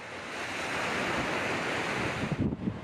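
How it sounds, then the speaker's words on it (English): Flood water and heavy winds in New York, heard as a loud, continuous rush of broadband roaring noise with wind buffeting the microphone, rising steadily and then breaking into gusty bursts near the end. "Flooding exacerbated by heavy winds inundated roads, homes and businesses in parts of New York on Friday."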